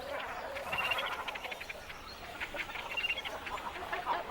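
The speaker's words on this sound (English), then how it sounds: "thousands of cormorants use dead trees for their nests" Cormorants and other waterfowl call across a crowded nesting colony in dead trees by a Balkan lake, a dense, continuous chorus of overlapping squawks and quacking cries at moderate distance.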